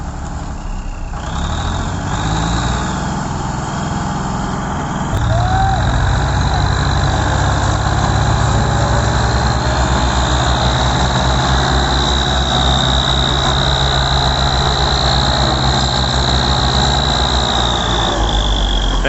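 Tractor engines from a New Holland and a Ford 3610 run steadily together in the rain, a loud continuous diesel drone with a rising whine, growing louder after about five seconds and holding to the end, with no talk.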